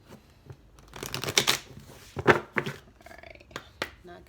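Tarot cards are shuffled by hand in riffled bursts and soft fluttering rustles, close to the listener, with brief pauses between the passes and a little quiet talk.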